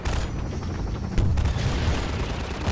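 Heavy booming gunfire aimed at a gunship in the co-op game Half-Life 2, a dense rumbling barrage with a sharp loud blast about midway and a sustained roar after it, no talk heard.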